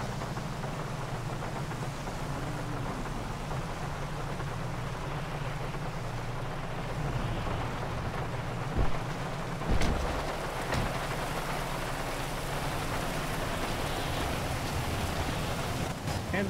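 Steady rain falls in a GTA roleplay game scene, a constant hiss with a few dull thumps and knocks breaking through near the middle.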